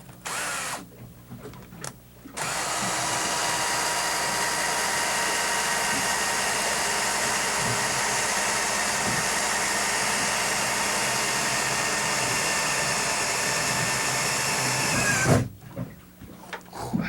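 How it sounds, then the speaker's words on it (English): A power drill boring pilot holes in a cutout on a boat whirs in a couple of short bursts, then runs steadily and loudly for about thirteen seconds before winding down. "going to drill some pilot holes in this cutout here"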